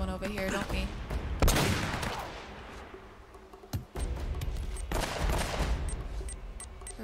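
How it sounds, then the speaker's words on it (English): Video game gunfire from Uncharted: Drake's Fortune rattles in sharp repeated bursts and single cracks, a busy firefight with loud volleys that fade and return. "Where are these guys shooting me from?"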